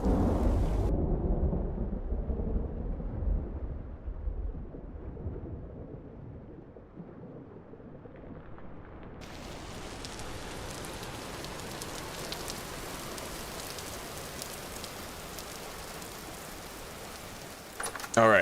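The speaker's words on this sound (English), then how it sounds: "Sounds like there's a nasty storm out there." A Vintage Story thunderstorm opens with a deep rumble of thunder that fades, then dense, steady rain hisses for the rest, fairly loud and without any talk.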